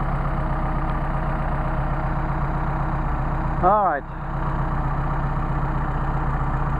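An engine fitted with Solex 44PHH carburetors, warmed up to temperature, idles with a steady low rumble throughout; a short voice briefly cuts in near the middle.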